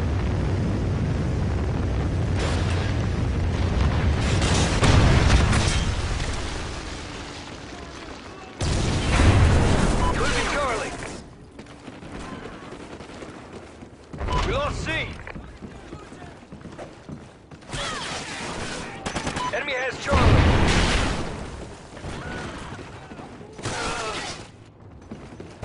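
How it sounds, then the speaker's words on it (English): Trinity rocket strikes in a shooter video game land as a series of heavy, roaring explosions with shattering debris, several long loud blasts separated by short lulls, with game voice announcements in between. "Friendly Trinity rocket inbound."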